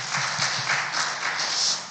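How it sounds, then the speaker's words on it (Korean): Brief burst of applause from a church congregation, a dense patter of hand claps at moderate volume with no voices. "우리가 박수 한번 하도록 하겠습니다"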